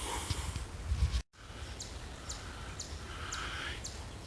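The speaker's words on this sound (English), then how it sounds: "It's the alarm call of the eastern chipmunk" An eastern chipmunk gives its alarm call in woodland at Jugtown Preserve: faint, evenly spaced high chips repeat steadily at a distance over a constant outdoor background hiss.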